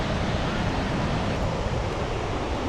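Niagara Falls roars in a dense, steady wash of rushing water close by, loud and unbroken, with wind buffeting mixed in.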